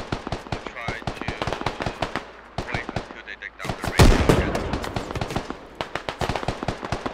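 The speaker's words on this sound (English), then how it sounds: "grenades are flying past Revy right now" Rapid gunfire crackles almost nonstop in the game Squad, with a heavy grenade blast near the middle. Loud, close bursts of shots keep going on either side of the explosion, and a voice talks underneath.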